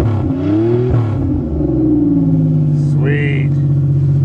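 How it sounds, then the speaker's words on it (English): A 1990 Chevrolet Celebrity engine revs on a cold winter day in deep snow, a steady low idle with a rising rev near the end. "Always good to rev your engines on a cold day."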